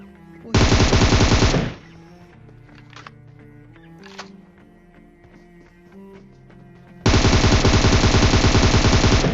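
Two long, loud bursts of automatic gunfire in a battle royale video game, the first short and the second sustained, with quieter game sounds and a few single clicks or shots in between.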